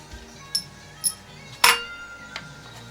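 A removed motorcycle engine part from a KDX teardown is set into an oil drain pan, giving a few sharp metallic clinks and one louder clank over a quiet hum of workshop background.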